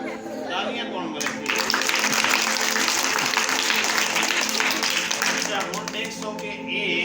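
A small group clapping during a magician's performance, a burst of applause that swells after the first second and holds steady, with chatter and voices around it.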